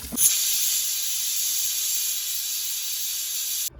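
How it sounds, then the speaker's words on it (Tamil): A pressure cooker whistle while cooking rice: a steady, loud hiss of escaping steam runs almost continuously for several seconds, then cuts off abruptly. "குக்கர் மூடி போட்டு மூணு விசில்"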